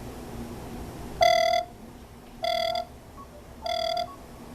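A HAMSWAN U18 Android 4.4 smartwatch rings for an incoming call: three evenly spaced bursts of a bright electronic ringtone, close and clear, against a faint hiss with no one talking.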